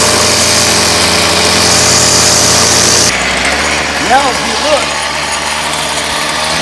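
A string trimmer edges a lawn, its line barely skimming the top of the grass. The small engine whines steadily, then its pitch shifts partway through. A voice speaks briefly.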